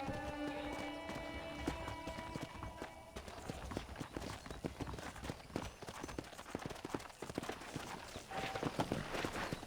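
Horse hooves clip-clop in a quick, steady rhythm close by in the video game Red Dead Redemption, accompanied by soft background music and ambient noise.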